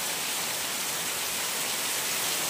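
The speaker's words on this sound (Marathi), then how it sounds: "खूप पाऊस पडतोय, थांबत नाही पाऊस" Heavy rain pours steadily in a village, a dense, even hiss that stays unbroken and fairly loud throughout with no voices.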